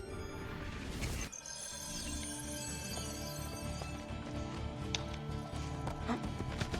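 Steady hoofbeats of a galloping horse in a horse race in the video game Assassin's Creed II, under a dense layer of music and game effects, continuous and fairly loud throughout.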